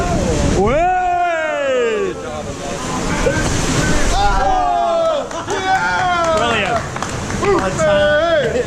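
Water rushes through a tunnel with waterfalls on an Intamin river rapids ride at Worlds of Fun. Riders shout and shriek loudly over the continuous splashing and roar.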